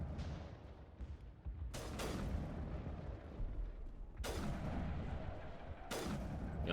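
Gunfire in Mass Effect as Garrus shoots at a wall, several sharp booming shots spaced a second or two apart over a low rumbling background, fairly close and loud, with no voices.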